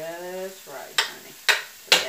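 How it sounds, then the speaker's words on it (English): Cauliflower frying in a pan for vegan tacos, stirred in three sharp scraping bursts after a short spoken phrase. "Stir that cauliflower, get that going."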